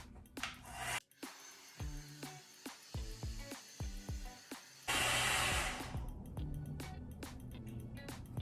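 Hair dryer on high airflow used for a twist-out blowout, a loud steady rushing roar that cuts in and out with brief pauses, interrupted by soft handling clatter, then surges to a strong broadband blast partway through.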